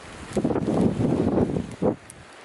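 Wind gusts outdoors in a vineyard buffet the microphone in loud, rumbling bursts that rise and fall over a couple of seconds, with faint rustling and no talking.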